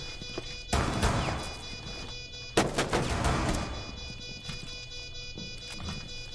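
Video game gunfire rattles in two loud, close bursts of rapid shots with a shorter spatter between, over a steady electronic background hum.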